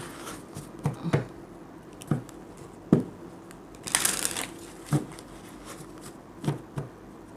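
Tarot cards shuffled by hand, a series of soft papery riffles and taps at irregular intervals with one longer brushing sweep, close and fairly quiet, without speech.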